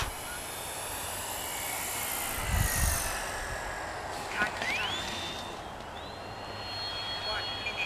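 An FMS 1450mm P-51 Mustang V8 radio-controlled model plane flies in the evening over a grass field, its motor whine faint and distant, rising and shifting in pitch as it passes.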